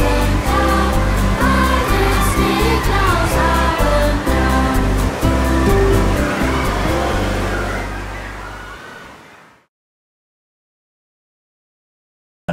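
Water at a swimming club's pool splashes and sloshes in dense, continuous bursts, loud and close, then fades out to silence near the end with no voices.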